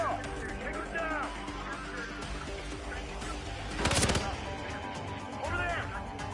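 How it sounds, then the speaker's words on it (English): Gunfire in the Hitman video game, a loud burst of shots near the middle and another flurry toward the end, set against continuous game ambience with voices calling out. "Gunfire."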